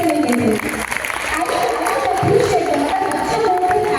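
A school audience of parents applauds at a stress-management and exam-anxiety session, with steady, dense clapping from a crowd that builds slightly under a speaker's voice.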